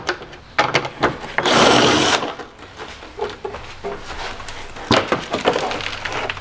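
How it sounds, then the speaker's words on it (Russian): Hand tools clatter while the last bolt is removed from a 2018 Kia Sorento Prime 2.2 during a fuel filter change, a close burst of ratcheting rasp followed by scattered metallic clicks and knocks. "Крайний болт выкручиваю."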